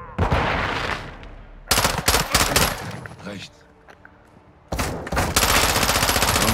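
Bursts of automatic gunfire from a Call of Duty: Modern Warfare II campaign mission, loud rapid volleys separated by pauses, with a brief spoken word in between.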